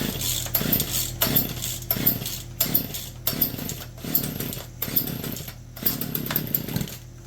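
A Poulan 2150 chainsaw, recently flooded, runs at high idle, its steady buzzing drone broken by a regular series of louder rhythmic pulses. It sounds close and fairly loud, with nobody talking.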